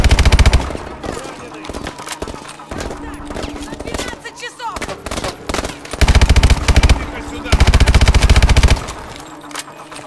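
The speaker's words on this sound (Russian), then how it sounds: "Стреляй в него!" Loud bursts of automatic gunfire and shots in Call of Duty: Advanced Warfare, with heavy sustained volleys around the middle and end, mixed with game voices shouting over the combat.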